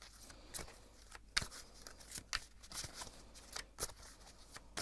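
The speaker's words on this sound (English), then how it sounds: "So I'm gonna shuffle a little bit more about this person" Tarot cards are shuffled by hand in soft, quiet riffles and taps, irregular little bursts of papery flicking close up, with no talking.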